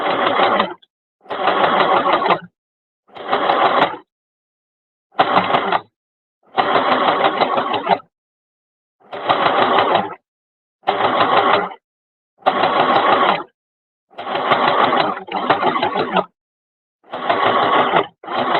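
A domestic sewing machine stitches rows in about a dozen short bursts, each a loud, fast whirring run separated by brief pauses of silence.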